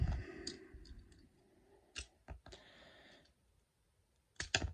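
Plastic parts of a Transformers Legacy United Deluxe Magneous toy figure are pulled off: a few sharp clicks and snaps in quick pairs, close and fairly quiet, separated by stretches of faint background noise.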